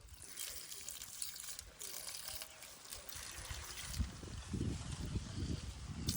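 Water is poured onto a young apple tree outdoors in the rural Philippines, a faint, uneven trickle and splash that comes in bursts against soft outdoor background noise.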